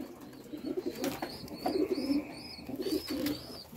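Young pigeons cooing in a loft, soft low burbling coos in several close bursts, with faint high chirps above.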